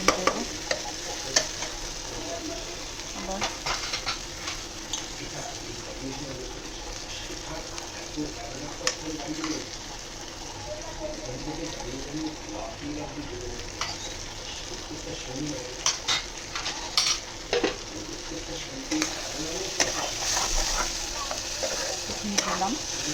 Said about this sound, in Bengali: এবার এটাকে আমি নাড়াচ্ছি, দেখতেই পাচ্ছেন।